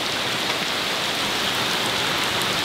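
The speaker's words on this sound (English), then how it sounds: "It's rainy and disgusting outside." Steady, dense rain falling and pattering on surfaces, a continuous hiss with no voices.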